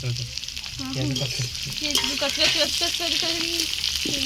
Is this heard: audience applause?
no